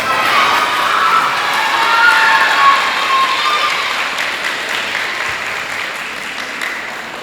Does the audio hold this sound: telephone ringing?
no